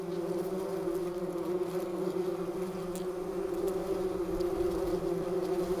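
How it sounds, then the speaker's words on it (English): Bumblebees humming at their nest among brood cells, a dense steady low drone of many wings, close and continuous with no talk. "Unlike honeybees, bumblebees don't make honeycombs, but care for their brood in larvae cells."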